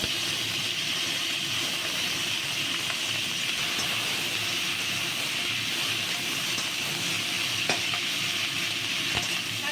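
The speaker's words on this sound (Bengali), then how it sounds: "এবার আমি শাকটাও দিয়ে নিচ্ছি এর সঙ্গে একসঙ্গে ভেজে নেব" Pea greens frying in a pan with fish heads and potatoes give a steady, close sizzle throughout, with occasional faint stirring clinks and no talking.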